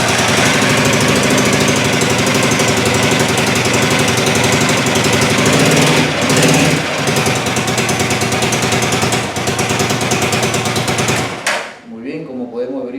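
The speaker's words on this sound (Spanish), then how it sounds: "la moto ha encendido sin ningún problema" A motorcycle engine fired with the starter button, running loud and continuous with a rough, knocking idle close by, then cutting off abruptly near the end.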